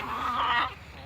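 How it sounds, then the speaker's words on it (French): Roosters in a backyard flock give a short, close clucking call that fades within a second, without any talking. "il y a les autres coqs là."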